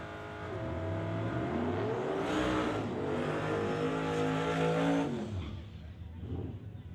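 A 1986 Mercury Marquis wagon and a 1992 Fox body Mustang launch in a limited street drag race, loud engines revving hard and climbing in pitch for several seconds before the roar fades into the distance.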